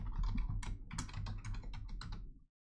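Rapid keystrokes on a computer keyboard as a password is typed to sign a Cardano transaction, a close, dense run of clicks lasting about two and a half seconds before stopping abruptly.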